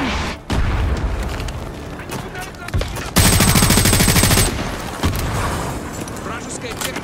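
Battlefield combat in the Call of Duty Modern Warfare 2 campaign remastered: loud, close bursts of rapid machine-gun fire and booming mortar impacts come one after another, with shouted voices mixed in.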